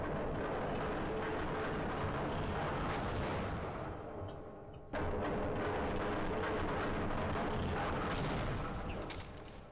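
Grenade blasts in the video game Half-Life: Opposing Force produce a dense, sustained rumble of booming explosions, with a brief dip before a second loud burst of blast noise.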